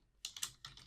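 Fingers type on a computer keyboard with a short burst of about five crisp, close keystroke clicks in quick succession. The sound is quiet and there is no speech.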